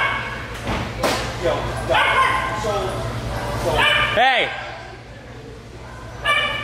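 Several dogs bark and yip in quick bursts close by, with a whimper and a thud, while a person talks and shouts over them.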